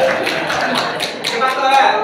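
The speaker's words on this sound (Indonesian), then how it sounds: "Tepuk tangan untuk Pak Edi." A small group at an indoor teacher-training session claps for a colleague, short, fairly loud, rhythmic bursts of hand claps under ongoing talk.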